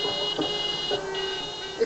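Car horns hooting at an anti-fracking protest over a planning hearing in Kirby Misperton, several tonal honks overlapping at middle distance amid crowd noise, with faint voices underneath.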